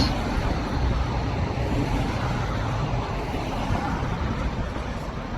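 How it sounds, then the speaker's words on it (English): An Audi RS6 drives by on a city street in Zurich, heard as a steady, loud roar of engine and tyres that stays constant throughout, with general traffic noise around it. "There goes an RS6."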